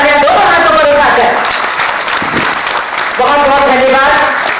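A standing audience at a government MOU signing ceremony with HCL TSS applauds loudly and steadily, the dense clapping filling the hall while a voice speaks over it through a PA system.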